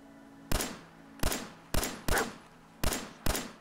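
Six sharp gunshots in the video game Fallout 4 ring out at uneven intervals, each a loud crack with a short decaying tail, over a faint background hum.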